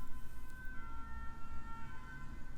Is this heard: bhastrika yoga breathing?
no